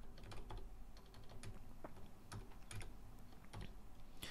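Rapid typing on a computer keyboard, keystrokes clicking in quick irregular bursts with short pauses, close and fairly quiet, with no talking.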